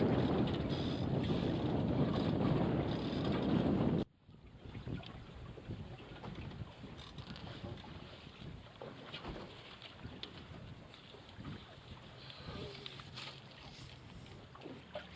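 Wind rushes steadily across a small camp sailboat on a beam reach near the Thousand Islands, with water washing along the hull; a loud microphone-buffeting gust drops away after a few seconds to a steadier, softer rush.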